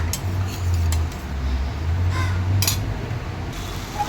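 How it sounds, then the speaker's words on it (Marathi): Rice and marinated prawns are stirred and fried in a pan, giving a steady low sizzle with a few light scraping clinks of a utensil against the metal, no talking. "ते छान परत एकदा परतून घ्यायचं"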